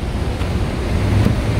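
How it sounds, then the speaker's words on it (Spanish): A waterfall on the Passaic River in Paterson, New Jersey gives a steady broadband rushing roar mixed with buffeting wind noise, with no speech. "hay unas cataratas lindísimas"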